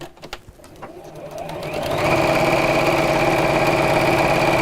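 A sewing machine stitches straight lines, starting with a few uneven bursts and then settling into a steady, loud, continuous whirring hum for the last few seconds.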